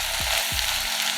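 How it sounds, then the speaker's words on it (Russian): Lavash flatbread with melted cheese sizzles steadily in a hot pan, a close, continuous frying hiss broken by two brief low scraping knocks. "Жарим пару минут, чтобы образовалась поджаренная сырная корочка"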